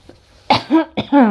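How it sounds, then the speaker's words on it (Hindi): Two short, harsh coughs close to the microphone, each ending in a brief voiced rasp, with a quiet pause before them. "खांसी आ रहा है।"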